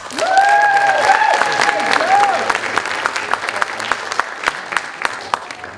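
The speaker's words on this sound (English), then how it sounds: "One more round of applause for all our artists." Applause rises from the crowd at a student arts celebration, with cheering and whooping over the clapping at first, then it settles into steady clapping that gradually thins out.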